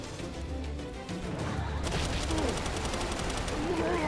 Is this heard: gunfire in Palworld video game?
yes